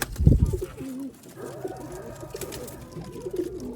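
Sialkoti pigeons coo close by in soft, repeated throaty phrases. The calls rise and fall over a few seconds, with a louder burst of bird noise at the start.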